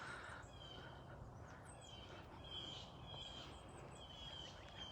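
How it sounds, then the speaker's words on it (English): Birds call and chirp faintly at a distance in a quiet wooded setting of giant pines hung with Spanish moss, the scattered brief calls sitting over a steady low outdoor hiss with no talking. "Trying to be quiet so you can hear all the birds."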